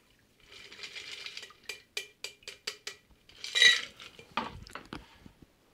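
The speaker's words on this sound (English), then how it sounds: "Add ice. And give it a good shake." Cocktail shaker full of ice shaken for an Aviation cocktail: a brief rattle, then a rapid series of sharp rhythmic clinks and a final burst of ice knocking, close and clear.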